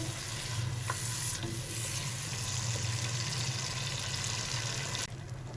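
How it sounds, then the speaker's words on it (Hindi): Tomato and chili paste masala frying in a pan with a splash of water, a steady close sizzle with occasional stirring scrapes throughout, for biryani with white chickpeas. "2 मिनट तक मसालों को पकाएंगे।"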